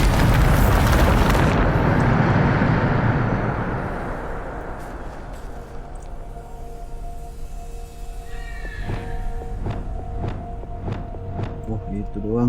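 A Bombarda spell explosion in the video game Hogwarts Legacy, a loud roaring blast up front that decays over several seconds, followed by quieter tonal effects and a voice.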